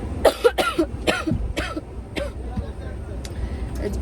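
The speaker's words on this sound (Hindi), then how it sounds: "I'm just going on coughing and coughing and coughing and coughing." Repeated coughing fits with throat clearing, a burst of several harsh coughs up close followed by a few scattered, fainter coughs, with faint background noise.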